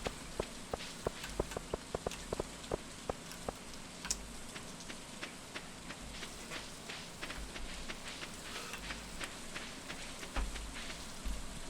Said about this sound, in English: Oh, it's raining, so we don't have to water it.